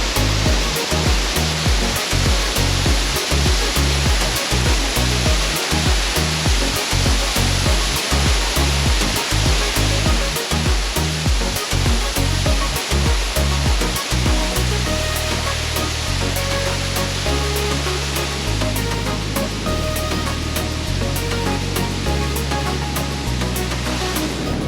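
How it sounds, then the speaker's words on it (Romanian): Steady, roaring rush of a waterfall in Côte d'Ivoire fills the whole stretch, broadband and constant, with deep rumbling pulses underneath and no voices. "sunt multe cascade"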